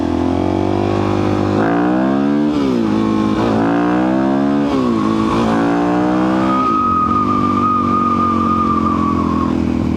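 DRZ 400 supermoto motorcycle engine while riding: loud, close revving that climbs through several quick gear shifts, each with a brief dip, then holds at a steady cruising drone.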